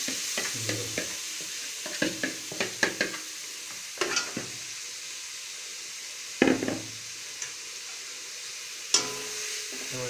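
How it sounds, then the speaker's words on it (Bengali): Marinated chicken tipped into a hot pan for Chicken Kolhapuri is stirred and sizzles, with irregular scraping strokes and clatters over a steady frying hiss, close and moderately loud, no talk. "এটাকে ভালো করে চিকেনের সাথে মিক্স করে নেব যতটা সম্ভব"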